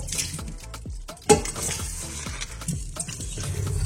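Shrimp stirred in a hot pan, with scraping utensil strokes and light clinks over a low sizzle, plus one sharper knock partway through, close and fairly steady.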